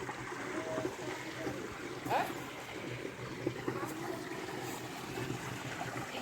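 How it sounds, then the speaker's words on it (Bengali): Water running as a stream through granite and banded gneiss rocks in a riverbed at Dharara Falls, a steady broad rush heard continuously with speech over it. "সামনে দেখুন পাথরের মধ্যে দিয়ে চলেছে জলের ধারা"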